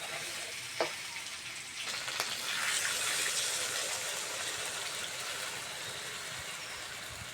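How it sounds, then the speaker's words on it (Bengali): Water is poured into a hot pan of fried vegetables, including taro and potato, for a Bengali fish curry. It gives a short splash and then a steady hiss and sizzle that rises and holds, faint and with no talk. "এবার জল দিয়ে দেবো।"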